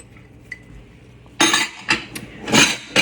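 Minced organic white onion and other salad ingredients tipped into a Vitamix blender jar, giving several loud clattering clinks and knocks in short bursts after a quiet start.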